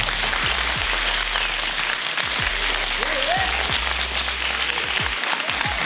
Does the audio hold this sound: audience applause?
yes